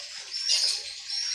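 A recording of swiftlet calls plays inside a small swiftlet house, producing fast, high chirping and twittering that swells and dips continuously, with no talking.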